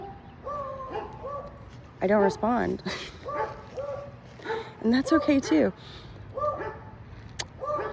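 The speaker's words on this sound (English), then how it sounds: "Lots of dogs barking." Several beagles bay and bark in repeated howling bursts with short pauses, loud and close. A voice speaks over the first part.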